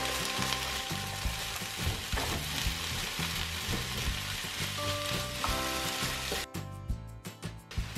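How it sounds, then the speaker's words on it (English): Chicken, bacon, asparagus and mushrooms stir-fried in a pan give a steady loud sizzle with scraping stirring strokes, then a brief clatter near the end. "I'm just gonna give it a stir fry just to put some extra greens on the side"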